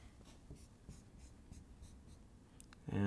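A marker squeaks and scrapes across a board in a run of short, fairly quiet strokes while lines are drawn between the opposite corners of a rectangle for a hyperbola's asymptotes. A louder thump comes at the very end.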